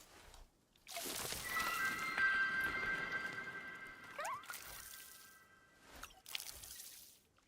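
Watering a plant in the Wanderstop video game gives a soft, steady pour that trickles and splashes for about three seconds, with tonal game chimes over it and short bursts of watery sound after it.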